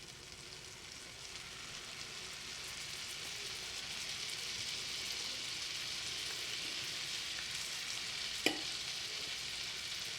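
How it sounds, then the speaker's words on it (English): Shrimp sear in an even layer in a pan with lemon garlic butter, a faint, steady sizzle with one sharp tick of a utensil late on. "we're going to place the shrimp in an even layer in the pan so that they can brown"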